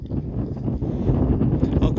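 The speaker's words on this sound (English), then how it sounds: "because it is windy. Like I say, I'm fighting the wind all the time." Wind buffets a microphone outdoors at night, a steady, loud low rumble with gusty swells and rustling throughout.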